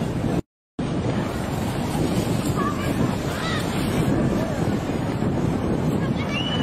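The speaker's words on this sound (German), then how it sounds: "Schnicki, wie das hochpescht, das Wasser." Sea waves surge and splash up near a military boat, a continuous rushing wash mixed with heavy wind buffeting the microphone, with no clear voices.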